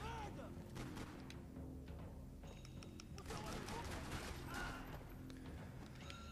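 Gunfire from blind firing over cover in the video game Max Payne 3, a dense run of shots and impacts over a low rumbling game soundtrack, with a voice talking throughout.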